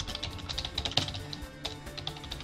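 Rapid clicking of computer keyboard keys while writing a paper, close and crisp, with uneven bursts of keystrokes and a short pause midway, no talking.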